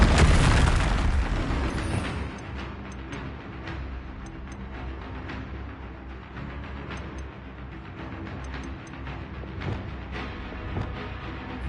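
An Expelliarmus spell is cast in Hogwarts Legacy, opening with a loud booming burst that fades into a rumbling tail dotted with faint crackles and small pops.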